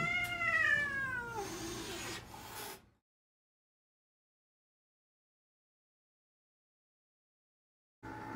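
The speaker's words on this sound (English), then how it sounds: "Oh my god, that cat's so cute." Cat meowing up close, one long drawn-out wailing meow with a rustle after it, followed by several seconds of silence.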